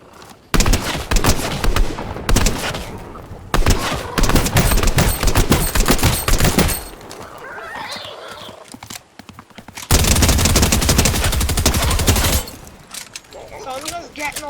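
Shotgun blasts in Fortnite Chapter 3 Season 2, loud bursts of rapid gunfire in several stretches with quieter gaps, a voice talking between and under the shots.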